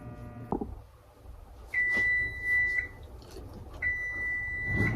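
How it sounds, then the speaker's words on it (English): An oven timer goes off while a pineapple upside-down cake bakes: two long, sustained electronic beeps, each about a second, with a short thump of kitchen clatter before them. "that's our timer going off"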